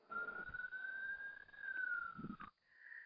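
A siren wails steadily in the background, a long sustained tone rising slowly and holding for about two and a half seconds, then cutting off to a quieter, different tone. It sounds distant and thin, with no one talking over it.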